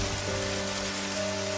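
Heavy rain pours in a dense, steady hiss, loud and unbroken, with low tonal hum beneath and no voices.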